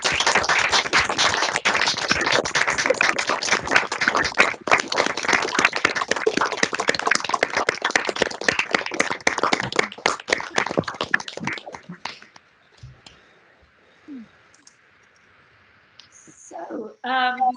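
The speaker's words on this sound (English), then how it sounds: "join me in another round of applause for Professor Leslie Topp." Applause for a professor at the end of an inaugural lecture held online, with many remote listeners clapping at once: a dense, steady patter for about twelve seconds that cuts off sharply, followed by near-silence and a few faint stray sounds.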